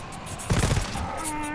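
A short, loud burst of rapid gunfire from the co-op video game GTFO crackles over a steady background bed of game ambience.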